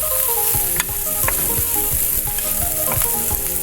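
Eggs, tomato and green chili fry in a pan with a steady loud sizzle, broken by repeated scraping and stirring strokes of a spatula against the metal, with no talk.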